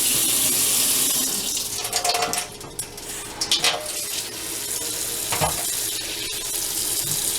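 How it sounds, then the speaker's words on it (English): Kitchen tap water runs steadily into a sink while fruits and vegetables are washed, a loud continuous hiss broken by a few splashes and shifts in the stream as the produce is handled. "I'm about to wash my fruits and vegetables."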